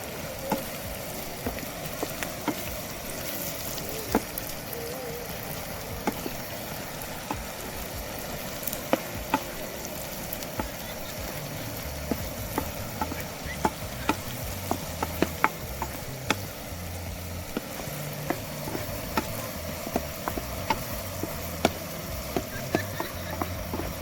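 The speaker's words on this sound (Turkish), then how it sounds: "Yeşil biberlerimi attım. Karıştırıyorum." Green peppers sizzle steadily as they fry in a pan, with a continuous crackling hiss and scattered clicks and scrapes of stirring throughout.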